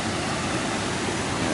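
Waterfall water at Chanaen waterfall pouring and flowing beneath a natural stone bridge, a steady dense broadband roar of rushing water filling the whole span with no talk.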